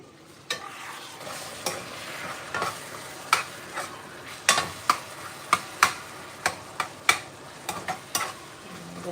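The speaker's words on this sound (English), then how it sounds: "let's give my meat a stir in the meantime" Meat sizzling in a frying pan for a Sunday dinner, stirred with a utensil that gives irregular sharp scrapes and clicks over a steady low sizzle, close and fairly quiet, with no talk.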